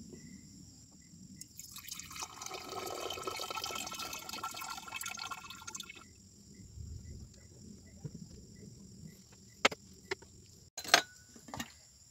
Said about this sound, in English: let's decant this hydrochloric acid